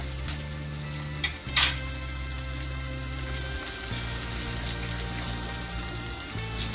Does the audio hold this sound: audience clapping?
no